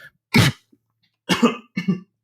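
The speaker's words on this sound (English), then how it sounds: "You just guaranteed that cough is going to make it into the show." Three sharp, close coughs: one, a pause, then two in quick succession, with silence between them.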